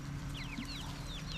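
Hens clucking and calling in a permaculture garden food forest, several short chirpy clucks repeating irregularly at moderate distance over a steady low rumble of background noise.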